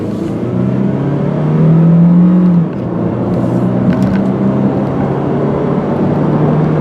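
A 2005 Chevy Aveo four-door's engine drones steadily from inside the cabin, rising in pitch as it accelerates past 50 miles an hour, then settling into a constant road hum.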